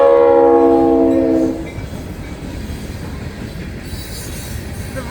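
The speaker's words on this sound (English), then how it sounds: "It looks like the honoring our veterans locomotive." Florida East Coast 'Honoring Our Veterans' locomotive blowing a loud multi-chime horn blast, then rumbling past with steady wheel and rail noise and a brief squeal near the end.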